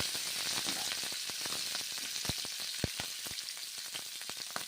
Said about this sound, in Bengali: গরম করে নিয়ে তারপরে বিনসগুলো ভেজে নিচ্ছি।